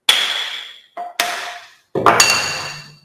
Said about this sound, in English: So this is how you do it, by the way, using a plane hammer.